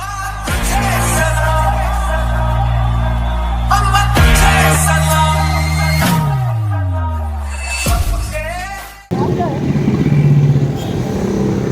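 Several motorcycle engines of a riders group drone and rev close by, one sweeping down in pitch as it passes, while voices talk over the steady roar.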